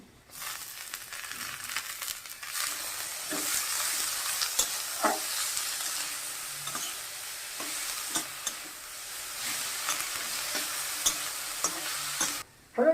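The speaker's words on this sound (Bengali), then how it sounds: "পেঁয়াজটা ভাজা হয়ে গেছে আমি ওলকপিটা দিয়ে দেবো ওলকপিটা দিয়ে দিলাম" Kohlrabi tossed into fried onion in a pan sizzles loudly and steadily, with scattered stirring clicks of a spatula against the pan throughout and no talking.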